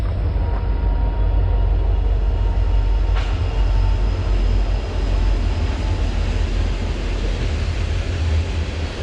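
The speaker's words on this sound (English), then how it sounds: "Yep, it's just a junk train or a local, one of the two." A general freight train rolls past continuously with a deep, heavy rumble and steady clatter of railcars, loud and close throughout. A faint squeal and a couple of brief knocks sound over it, with no talking.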